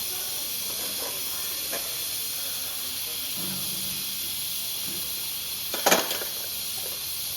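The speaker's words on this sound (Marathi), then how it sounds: "त्यामध्ये आपले खडे मसाले जे पाहिजे ते टाकले इथं थोडंसं तेल गरम जास्त झालं होतं" Whole spices sizzle in overheated oil as a continuous hiss, with a few soft crackles and one brief, louder spattering burst near the end.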